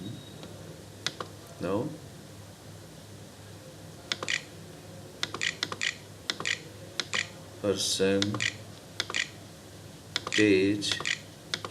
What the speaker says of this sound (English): Just type YouTube.